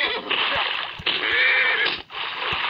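In the Survivalcraft 2 video game, a horse whinnies as a bull shark attacks it in the water, a strained, drawn-out cry mixed with watery splashing.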